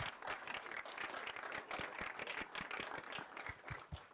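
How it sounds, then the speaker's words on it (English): Summit audience clapping for a volunteer IT team, faint and distant, with individual claps picked out within a soft continuous patter that keeps an even level throughout. "a big round of applause to our IT team and everyone who's part of it"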